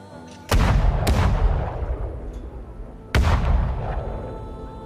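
Three heavy artillery booms ring out, two close together and a third a few seconds later. Each rolls into a long, rumbling decay that fills the gaps between shots.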